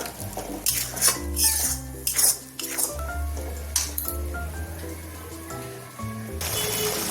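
Chicken gravy being stirred and fried down in a pot, with repeated scraping and clinking of a metal spoon against the pot over a low sizzle and a steady background hum, close and fairly loud, no speech.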